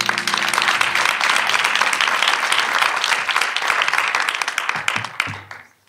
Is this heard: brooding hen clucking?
no